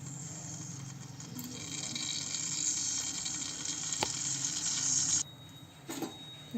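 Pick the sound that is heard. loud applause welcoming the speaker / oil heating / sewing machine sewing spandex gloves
oil heating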